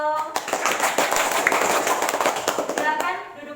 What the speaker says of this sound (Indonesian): untuk kelompok 1 berikan tepuk tangan dong